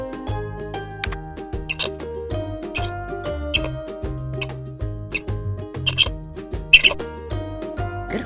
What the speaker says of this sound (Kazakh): тиын,